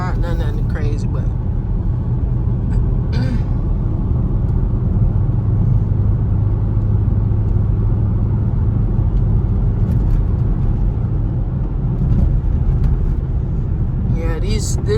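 A car cruises down a road in a steady, loud low rumble of engine and tyre noise that holds constant throughout, with a few faint clicks and knocks over the drone.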